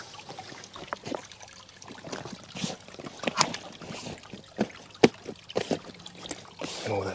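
Water runs and splashes into a pond being filled over a new liner, with irregular trickles and sharp drips scattered across a quiet outdoor background.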